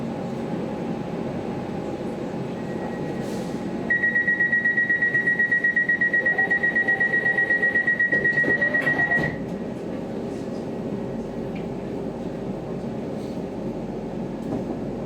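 A London Overground Lioness Line train runs between Euston and Watford Junction, heard from inside as a steady low rumble. A loud, rapidly pulsing beep tone sounds over it for about five seconds.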